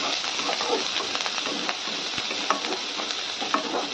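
Chopped ginger, onion, green chillies and curry leaves stir-fry in hot oil tempered with mustard seeds, giving a continuous close sizzle with scattered crackles and the scrape of stirring, with no talk.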